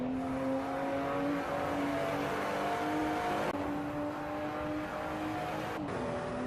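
Race car engine droning steadily through a lap of the Red Bull Ring in a sim racing game, with sustained high-pitched whine and brief shift changes, continuous and fairly loud with no talk.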